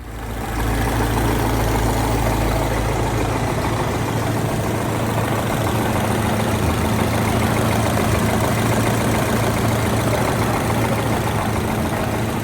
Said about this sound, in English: we'll fire it up and we'll run it and we'll see if it overheats